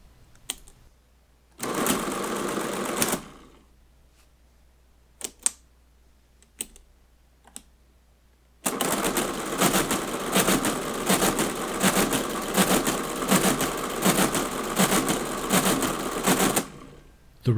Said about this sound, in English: you can see the machine calculates the threes until it runs out of room on the register